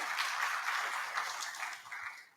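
Steady audience applause at a distinguished alumni awards ceremony, a soft, even wash of many hands clapping that holds through and fades slightly at the end, with no talk over it.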